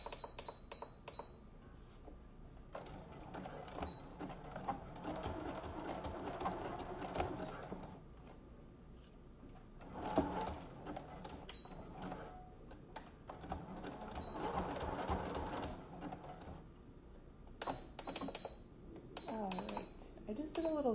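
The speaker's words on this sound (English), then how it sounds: "I just did a little zigzag stitch over the elastic" A sewing machine runs a zigzag stitch over elastic on a fabric face mask, its mechanical whirring coming in several bursts with short pauses between them at close range.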